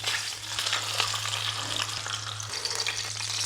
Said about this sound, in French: C'est grâce à elle que j'ai pu cuire mon bœuf wagyu, mais elle était un petit peu trop puissante là.